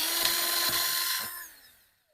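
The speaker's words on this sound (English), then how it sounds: "I use like the smallest drill bit I had." A small drill fitted with a very small bit whines at a high pitch for about a second and a half, then spins down and stops.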